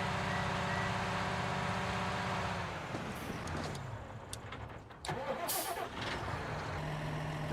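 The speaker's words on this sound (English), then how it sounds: "So he's changed the driving sound." A modded vehicle in Farming Simulator 19 drives with a steady engine hum, then dips, clatters through a few sharp mechanical clicks and a brief lull, and the engine picks back up close and loud.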